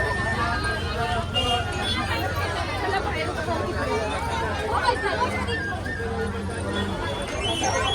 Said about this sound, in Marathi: लय गर्दी आहे.